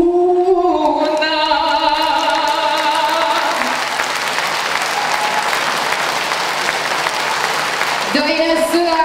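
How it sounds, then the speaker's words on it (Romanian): Loud audience applause breaks out at a Romanian televised event, a dense wash of clapping filling most of the clip while a singing or speaking voice runs over it at the start and end. "aplauze curtănoase!"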